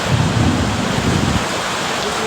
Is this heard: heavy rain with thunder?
yes